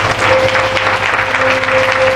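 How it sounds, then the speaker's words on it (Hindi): A church congregation applauds with steady, dense hand clapping throughout, loud and continuous with a faint sustained tone beneath and no speech. "परमेश्वर की ताली बजाइए।"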